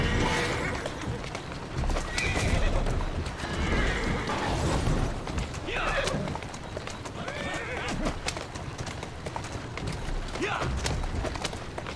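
Horses in Assassin's Creed Syndicate, with horse-drawn carriages out in a street, give steady clip-clopping hooves and several whinnies and neighs over a busy, continuous background.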